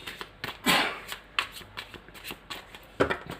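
Tarot cards are shuffled close by in a string of crisp riffling bursts and soft slaps, irregular in rhythm, with no voices over them.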